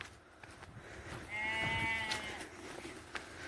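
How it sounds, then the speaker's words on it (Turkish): Sheep bleat on a farm while being fed, a single wavering, harmonic cry rising in the middle and fading out, set against steady outdoor background noise with no speech. "Arkadaşlar koyunlarımızı doyurduk."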